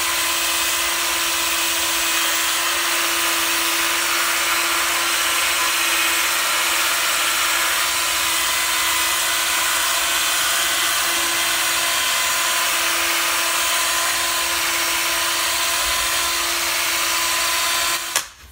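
A Ryobi 18V right angle drill with a buffing pad at about 1100 RPM polishing out paint scratches, giving a steady, loud motor whine with a grinding rasp, close up and continuous until it cuts off at the end.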